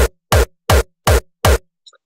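Five evenly spaced 909-style kick hits layered with a sharp click cut from the punch itself, each thump bright at the attack and deep below, played alone and close, with a faint blip trailing after.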